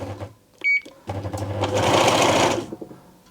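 A Singer 6268 domestic sewing machine with a feeding fault runs in reverse on a long stitch length, whirring loudly for about a second and a half after a short mechanical clunk, with quieter motor noise before it.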